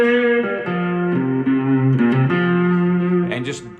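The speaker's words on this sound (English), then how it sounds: "get that psychedelic sound on your guitar and your amp. That means lots of reverb and lots of distortion." A three-string cigar box guitar played through an amp with heavy reverb and distortion, sustained fuzzy notes sliding between pitches in a slow blues phrase, loud and continuous with no talking.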